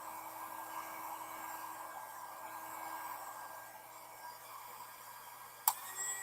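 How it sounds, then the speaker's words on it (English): Small 380-watt mini heat gun blowing steadily, a constant close airy whir with a faint motor hum, holding even throughout, with one short sharp tick near the end. "It's a heat gun, 380 watts. So mini heat gun."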